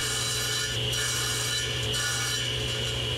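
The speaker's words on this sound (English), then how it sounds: "Now I'm just going to batch cut out the portions that half lap into the main body," Wood pieces for half lap joints in an Easter egg holder are cut in a batch with a saw and a homemade kerf-making jig, a continuous loud rasping, sawing drone with slight rhythmic pulses and no talk.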